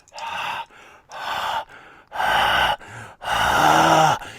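A voice imitates heavy breathing on the back of someone's neck: four loud, close gasping breaths, each followed by a quieter exhale, in a slow, uneven rhythm.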